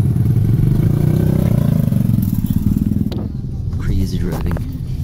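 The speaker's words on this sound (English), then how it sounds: "You can kind of tell with all the motorbikes." Motorbikes rumble and buzz through busy city traffic in Vietnam, a close engine drone that dips and returns, with people talking over it.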